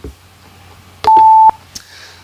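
A timer sounds a single sustained electronic beep of about half a second, clean and alone, framed by a few faint clicks.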